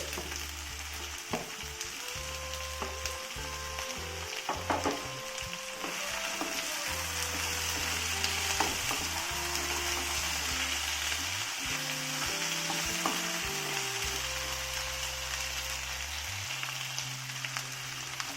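Chopped potatoes frying in a spice masala for a chochori-style dish, with a steady close sizzle and crackle throughout and occasional stirring scrapes in the pan, no talking.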